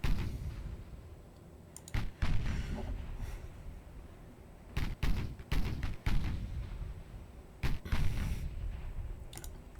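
Naval gun salvos in Ultimate Admiral Dreadnoughts, heard as several heavy booming shots in irregular clusters, each with a sharp crack and a rumbling tail, set against a low steady background of ship noise.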